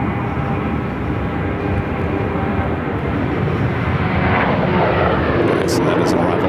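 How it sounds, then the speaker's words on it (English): An Airbus A350 arriving from Detroit comes in toward runway 8 at Phoenix airport with a continuous heavy jet roar that swells slightly louder toward the end. "The flight coming in from Detroit, also an A350."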